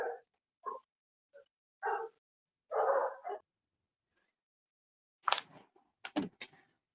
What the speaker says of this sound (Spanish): el que tengan los perros por ahí, que apague su micrófono